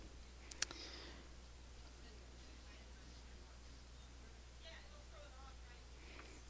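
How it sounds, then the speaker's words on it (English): A computer mouse clicks a few times, sharp and quiet, with a single click near the start and another at the very end over a low steady hum. "I might just click on all of these and see what I get."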